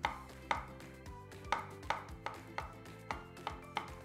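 A knife chops avocado on a cutting board in a home kitchen, giving steady, close, crisp knocks about every half second. There is no talk.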